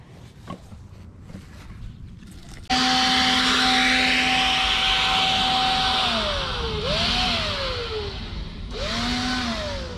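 A loud blower motor whirs on abruptly and runs steadily, its pitch dipping and rising as it works, after a quieter stretch of background noise.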